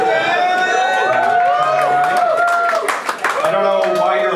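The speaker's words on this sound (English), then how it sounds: "I don't know why you're applauding that" Audience applause at a stand-up comedy set, a full room of clapping that stays loud and steady for several seconds, with a voice speaking over it near the end.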